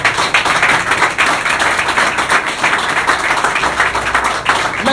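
A church congregation claps and applauds together, a loud, dense and continuous wash of many hands with a steady rhythmic pulse throughout.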